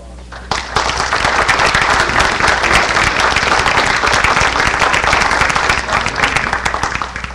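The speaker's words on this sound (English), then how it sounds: "How about a round of applause?" An audience at a City of Jefferson council meeting bursts into loud, close applause that starts abruptly and stays dense and steady before easing slightly toward the end.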